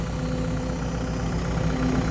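A farm tractor engine idles in a steady, unbroken low rumble with a constant hum, close by and with no talking over it.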